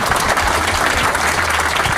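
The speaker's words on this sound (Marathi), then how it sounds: "तर एकदा दोघांसाठी पुन्हा टाळ्या वाजवा." A crowd at a live Marathi comedy event breaks into loud, sustained applause, a dense wash of clapping heard up close with no voices on top.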